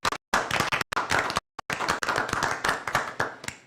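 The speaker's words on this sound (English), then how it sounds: "join me in giving them a round of applause for the much work that they do" An audience at a board of education meeting claps, irregular and close at first, then merging into denser continuous applause.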